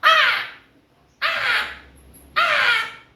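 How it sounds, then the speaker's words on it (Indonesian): A hungry eagle in a children's story gives three loud, harsh squawking cries, each about a second long and separated by short pauses. "ada burung elang yang lapar"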